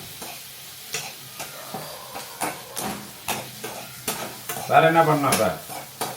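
Onions sauté in a pan for tomato chutney, a soft sizzle under repeated scraping strokes of a spoon stirring, with a brief louder burst of frying near the end and a few quiet spoken words.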